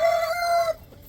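A single hen from a small flock of older backyard hens lets out a short, loud, close squawking call that stops abruptly after a moment.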